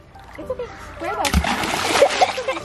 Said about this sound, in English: Don't splash me, you little jerk.